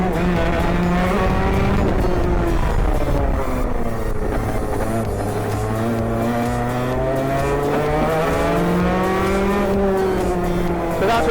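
A racing kart with a Rotax engine runs on cold slick tyres, its loud, close engine note rising and falling steadily through revs the whole time, with no talking over it.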